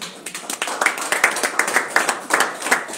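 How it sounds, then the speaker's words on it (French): Congregation clapping in church during a Tuesday worship service, with sharp individual claps in an uneven, growing patter close by and no voice over it. "Est-ce qu'on peut applaudir la parole de Dieu?"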